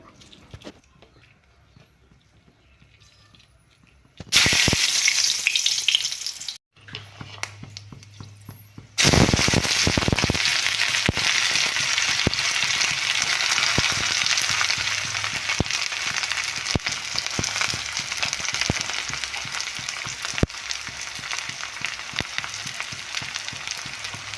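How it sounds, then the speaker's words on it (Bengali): Dried chili, onion and crushed garlic hit hot oil for a tadka, bursting into a loud sizzle that cuts out briefly and then settles into a steady, crackling fry with scattered pops for about fifteen seconds. "তড়কা আমি শুকনো লঙ্কা, পেঁয়াজ আর রসুন থেতো করে দিয়ে তারপর তড়কা লাগাবো।"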